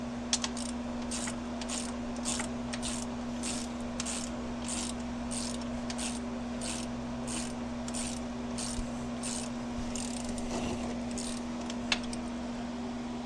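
Socket wrench working a 15 mm bolt loose during service on a 2006 Polaris Hawkeye ATV: a long, steady run of evenly spaced ratchet clicks over a constant low electrical hum, with one sharp knock near the end and no speech.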